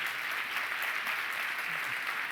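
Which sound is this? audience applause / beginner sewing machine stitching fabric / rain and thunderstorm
audience applause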